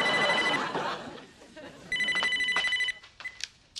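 A landline telephone bell rings indoors in a sitcom home, one clear burst of ringing after muffled talk and background chatter, then fading into quieter room sound.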